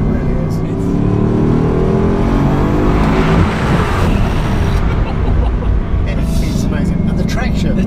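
A Bugatti Chiron hypercar accelerates hard, its engine roaring loud and close, with the pitch sweeping upward through the gears under a constant rush of road and wind noise.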